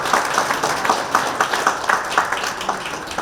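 Audience applause at a book launch event in Nonsan, a steady crowd of rhythmic clapping heard fairly close and moderately loud throughout, with no talking over it.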